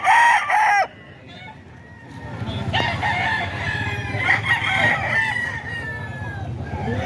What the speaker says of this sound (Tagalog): Mga manok pa ito ni Bustoni.